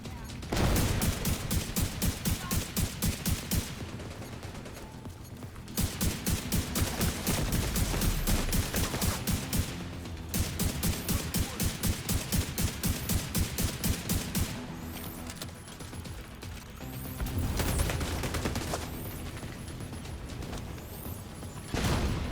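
Sustained automatic gunfire from The Division 2 video game, dense rapid bursts of fusillade broken by short pauses, loud and close throughout.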